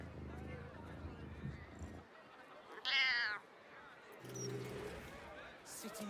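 A cat in the fantasy role-playing game Baldur's Gate 3 lets out a single clear, close meow in a short gap between stretches of game dialogue and ambient sound.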